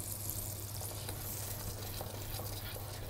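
Butter and neutral oil heat in a frying pan over medium heat, giving a steady, quiet sizzle with a low constant hum beneath and no talking.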